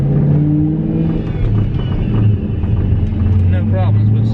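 A turbocharged Saleen with mechanical trouble accelerates gently under light throttle, its engine a steady loud drone with rising tones from inside the cabin, with faint turbo whistles and someone talking over it.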